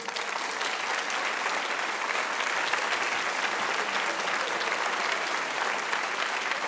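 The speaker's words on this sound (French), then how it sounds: "Faites un tonnerre d'applaudissements pour Jean Massière." Applause from a school eloquence contest audience in Montreuil, a dense and even clapping that holds steady throughout, with no voices over it.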